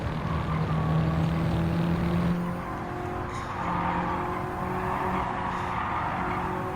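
The Lancer Evolution III races against tuned all-wheel-drive cars in Gran Turismo 7, its engine droning steadily with tire squeal and skidding, loud and continuous throughout.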